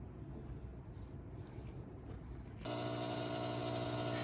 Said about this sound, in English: Excuse the noise. I've got some lemon ice cream churning.